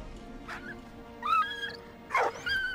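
A dog in the video game Valiant Hearts gives a few short whimpering yelps and barks in bursts, with soft game background sound underneath.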